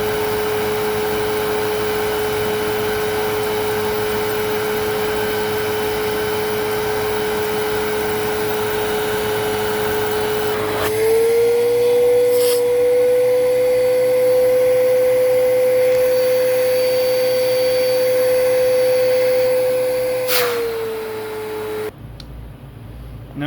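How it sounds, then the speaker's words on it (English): A Riccar Vibrance commercial vacuum cleaner runs with a loud, steady motor whine that shifts up in pitch partway through as the airflow changes, then drops back before cutting off near the end. "So let's start it up."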